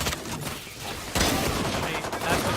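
Rapid pistol gunfire from a Valorant match crackles in a dense, loud volley, with shots layered over the game's busy background sound.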